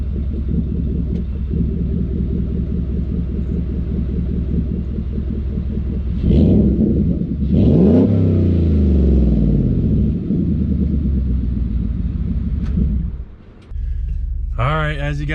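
Ford F150 pickup truck with a 5.0 V8 and MBRP aftermarket exhaust: a steady, deep idle rumble that swells into loud revs around the middle, sweeping up and falling back before settling into the idle again.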